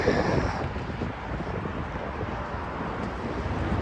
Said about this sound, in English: it's definitely windy enough for that